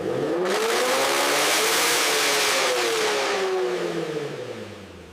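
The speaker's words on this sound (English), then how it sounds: "The rear wheels spin at high speed, simulating track conditions to ensure the drivetrain handles the load." A restored race car engine revs hard while its rear wheels spin at high speed, a loud sustained roar with rising and falling pitch that eases off toward the end.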